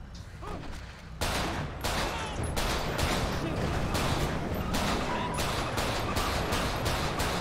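Gunfire in the video game GTA 5 during a roleplay street fight, with dense, sustained rapid shots forming a loud continuous barrage over a noisy background.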